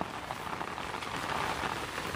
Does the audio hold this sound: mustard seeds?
no